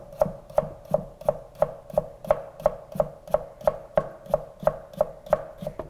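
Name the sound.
knife julienning radish for kimchi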